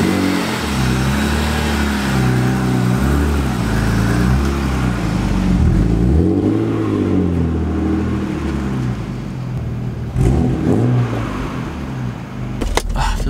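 A BMW E36 M3 engine and Dinan axle-back exhaust rumble loudly up close, rising and falling as it revs and accelerates, with a few brief knocks near the end.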